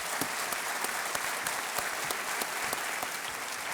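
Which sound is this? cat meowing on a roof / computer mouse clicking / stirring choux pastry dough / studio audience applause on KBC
studio audience applause on KBC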